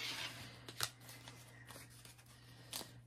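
Tarot cards being shuffled by hand during a reading: soft, quiet riffling with a few sharper flicks, the loudest near the start and end, over a faint steady hum with no talking.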